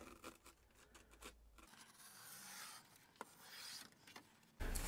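Excess material being trimmed off a VW T2 door card with a blade against a board, heard as quiet rasping and scratching strokes with brief pauses and a louder rustle at the end.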